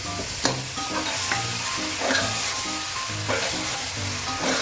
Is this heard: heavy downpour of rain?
no